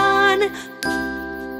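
Bell tones ring out in a children's lullaby, with two clear, sustained chimes struck one after the other, each leaving a long, even ringing tail.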